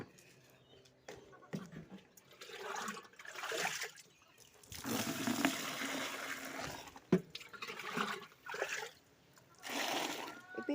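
Water running to fill a container while tending a cow on a hot day, an irregular splashing trickle that swells and fades in bursts, with people talking in the background.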